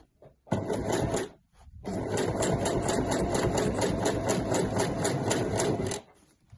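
A sewing machine stitches the handles of a weekender bag, with a brief burst, a short pause, then a long steady run of rapid needle thumping, loud and close with no voices.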